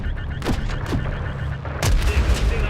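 Gunfire in the video game Call of Duty: Modern Warfare 3 rings out as several sharp, loud shots with booming tails, spaced across a few seconds over a low rumbling game background.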